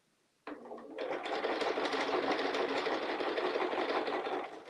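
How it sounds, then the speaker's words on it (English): A sewing machine stitches the final line of a fabric panel, starting abruptly and then running steadily with a loud, close, continuous whir before easing off at the end. "I'm going to go ahead and stitch this one back right to that position"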